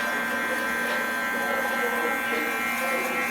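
Electric hair clippers buzz steadily and close up while cutting a taper fade, a continuous, even hum with no pauses.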